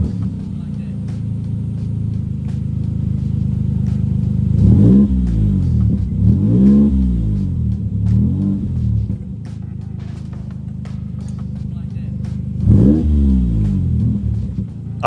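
A 2004 Morgan Roadster with a 3-litre V6 revs repeatedly over a steady idle rumble, with sharp rising and falling engine sweeps near the middle and another strong rev toward the end, loud and close.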